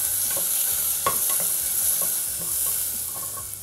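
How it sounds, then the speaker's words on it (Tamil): Onions sauté in a hot pan for broken wheat khichdi, a steady sizzle and crackle with occasional soft stirring clicks, close and continuous without any talk. "வெங்காயம் எல்லாமே வந்து நல்லா வதங்கணும்னு அவசியம் இல்லை, லைட்டாக வதங்கினா போதும்"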